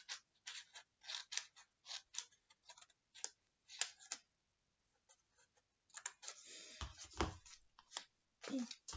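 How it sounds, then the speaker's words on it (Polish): Scissors curl the paper beard strip of an origami Santa, producing a run of quick, close ticking and scraping strokes with short pauses, and a voice speaks softly among them near the end. "I nożyczkami podkręcamy ją sobie delikatnie."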